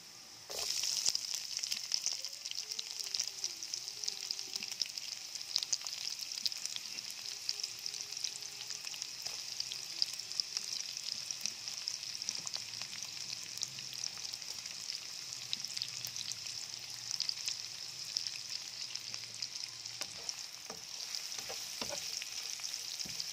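Sliced onions sizzle and fry steadily in a pan for a burger steak dish, with a continuous close crackling hiss and occasional soft scrapes and clinks of stirring, and no voices.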